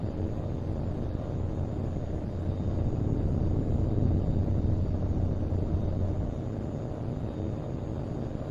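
A fighter jet in the video game HAWX 2 takes off with a steady, loud engine roar and a deep rumble that holds evenly throughout, with no voices.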